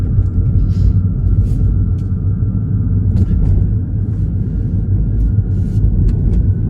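A 2022 Mini Cooper SE fully electric hot hatch on the move, heard as a loud, steady low road and cabin rumble with no engine note, continuous and close throughout, with no talking.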